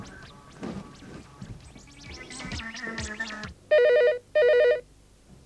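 A telephone rings twice in loud, close electronic bursts near the end, after a stretch of clattering and mixed background sound in a comedy serial scene.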